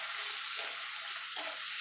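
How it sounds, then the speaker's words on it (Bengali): Chopped onion frying in a pan, a steady hiss of sizzling oil with a brief scrape of stirring near the end, close and alone. "পেঁয়াজটাকে একটুখানি নাড়াচাড়া করে নেব।"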